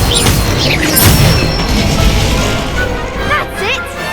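Spell casting in Hogwarts Legacy on Xbox Series S: a dense, loud wash of magical booms, crackling fire and whooshing effects, with sweeping, chirping tones near the end.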